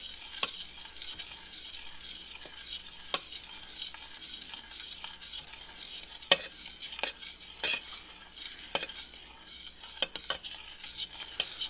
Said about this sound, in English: keep stirring, folks. See how it's still boiling even though I'm stirring?